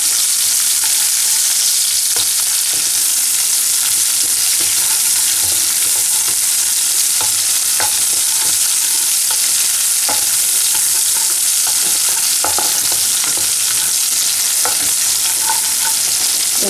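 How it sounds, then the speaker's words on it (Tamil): Onions sizzle steadily in a hot pan while being sautéed for a leek and potato gravy. A spoon stirs them with scattered light scrapes and clicks over a constant frying hiss, and no one speaks. "வெங்காயத்தை நல்லா கிளறி விட்டு வதக்கி விட்டுக்கோங்க."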